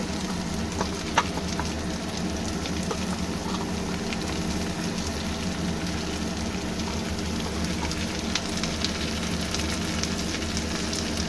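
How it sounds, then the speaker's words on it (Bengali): Potatoes and pointed gourd frying in a pan, giving a dense continuous sizzle with fine crackling throughout, close and steady, with no one speaking. "আলুগুলো ভেজে তার সঙ্গে পটলটাও দিয়ে দেবো পটলটাও একটু নেড়ে চেড়ে ভেজে নেব"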